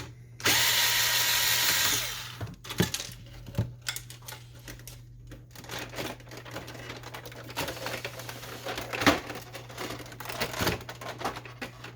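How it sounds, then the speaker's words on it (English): An electric screwdriver whirs briefly while screws are taken out during disassembly of an Epson XP-800 printer, then scattered clicks, taps and rattles of screws and plastic parts follow, close and quiet. "And we're going to unscrew this."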